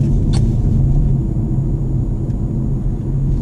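A BMW 330e G20 plug-in hybrid on the road, heard from inside as a steady, loud low rumble of tyres and engine, with a brief click near the start.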